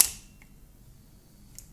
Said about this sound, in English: This is the shutter speed at 1/4 of a second.